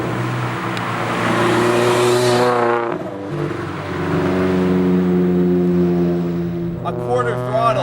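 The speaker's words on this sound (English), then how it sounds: "A quarter throttle, and that's already like way faster than a stock BRZ, so the turbo adds a lot" A turbocharged Subaru BRZ pulling at quarter throttle, its engine note climbing in pitch, dropping at a gear change, then rising again, fairly close and loud, with someone talking over it.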